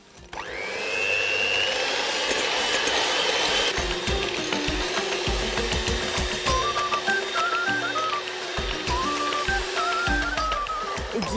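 Eggs, sugar and vanilla beaten for a tangerine cake with an electric mixer, a steady close whirring hum held throughout with small shifts in pitch as the beaters work the batter.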